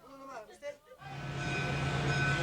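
A train climbing toward Machu Picchu in Peru, after a brief spoken passage, settles into a steady rumbling run with a sustained low drone and a high whine from the wheels.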